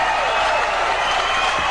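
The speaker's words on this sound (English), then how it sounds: "the bell sounds, and that'll bring the crowd to its feet" A boxing crowd in Lake Helen, Florida, applauding and cheering at the bell ending a round of a 1986 bout, a dense, steady wash of clapping and crowd noise filling the space throughout.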